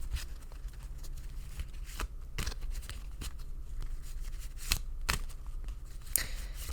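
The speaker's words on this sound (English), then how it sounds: "I will shuffle until Spirit tells me to stop" Tarot cards shuffled by hand in a quiet room, a series of soft, irregular riffling and flicking bursts, close and faint, with no talking.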